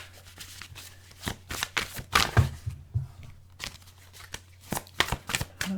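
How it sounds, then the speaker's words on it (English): Tarot cards being shuffled by hand, a steady run of quick papery riffles and slaps close up, with no talk over it. "2 more shuffles."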